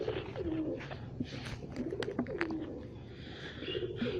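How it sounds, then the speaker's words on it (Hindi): Pigeons cooing nearby while being shown water with bird medication, a steady run of soft, low throaty coos repeating across the clip, with faint higher chirps and flutters in the background. "आप जैसे देख रहे हैं ये सामने कबूतर फिर रहे हैं"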